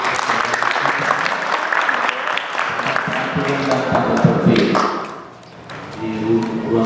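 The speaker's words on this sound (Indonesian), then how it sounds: "Baik, kita berikan tepuk tangan." A school assembly audience at a boarding school orientation gives a sustained round of clapping, fairly close and loud, fading briefly near the end before picking up again, with some thumps mixed in.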